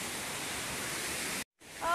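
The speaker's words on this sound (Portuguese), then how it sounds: "tchau, cachoeira linda" A broad, steady roar of a waterfall fills the air up close, cuts out briefly, then resumes with a short tonal chirp near the end.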